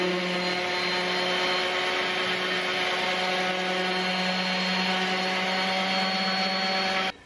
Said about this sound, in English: I'm going to try and hit this down a little bit with my sander